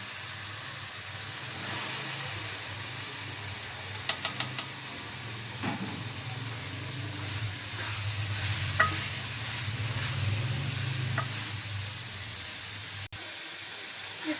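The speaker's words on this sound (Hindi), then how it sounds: "अब हम इसमें घिया कद्दू शामिल करते हैं और इसको भी भूनते हैं।" Bottle gourd sizzles and fries in spiced masala oil in a pan while being stirred, a steady close sizzle with scraping stir strokes and a few clinks, no voices.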